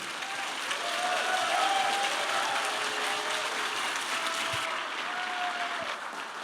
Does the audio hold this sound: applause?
yes